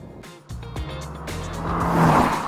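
A 2024 Mercedes-Benz E-Class with 48-volt mild hybrid tech accelerates briskly, its engine note climbing through rising pitch steps as gears change, moderately loud with some tire and road noise building toward the end.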